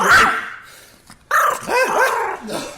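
A dog barks and yips at close range in a couple of sharp, loud bursts with whiny, high-pitched edges, heard alone without talking.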